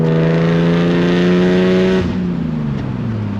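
A raspy, loud straight-piped exhaust on a BMW 328i E36 revs up hard under acceleration, then drops in pitch as the throttle eases, rumbling close by.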